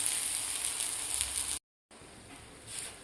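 Taro (alu) leaves shallow-frying in a pan, a steady bright sizzle and crackle, briefly cut to silence mid-way, then resuming more softly, no voices.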